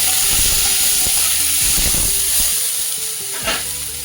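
Green peas hiss and sizzle steadily as they steam in a covered pan, a loud continuous wash of sound with faint clinks and a brief burst of steam near the end.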